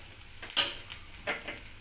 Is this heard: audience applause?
no